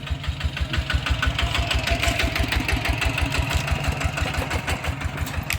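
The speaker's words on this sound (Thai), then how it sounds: "ส่วนมากก็จะเห็นรถตอกๆแบบนี้เนาะรถอีแท็กแบบนี้แหละพี่น้องแถบชนบท" A rural Lao farm utility vehicle (e-taek) engine in a southern Champasak village chugs steadily at close range, with a fast, even knocking pulse that runs throughout without talk.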